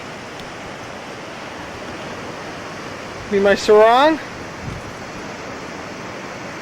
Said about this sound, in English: the water, the way the water breaks up against the shore